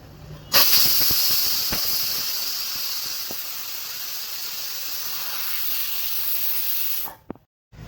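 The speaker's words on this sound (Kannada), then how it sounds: "ಕುಕ್ಕರ್ನ ಕ್ಲೋಸ್ ಮಾಡಿ ವಿಸಿಲ್ನ ಮುಚ್ಚಿಬಿಡೋಣ." Steady loud hiss of steam from a pressure cooker in a home kitchen during vegetable rice cooking, holding level for several seconds before cutting off abruptly near the end.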